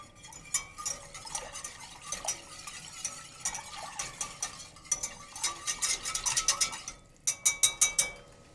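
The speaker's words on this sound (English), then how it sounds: "Whisk it together." Ingredients including gochujang being whisked together in a bowl for meatball sauce, a run of quick clinking metal taps against the bowl that grows denser and louder toward the end, close by with no talking.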